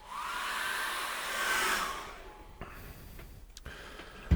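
A hair dryer blows steadily on wet acrylic paint on a Christmas winter scene painting for about two seconds, swelling slightly, then switches off, leaving quiet room tone and a few small taps.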